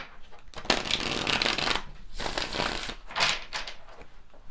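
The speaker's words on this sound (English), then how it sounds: "But let's pull some tarot cards." Tarot cards are shuffled by hand in quick papery riffles and slaps, in several close bursts separated by short pauses, with no speech.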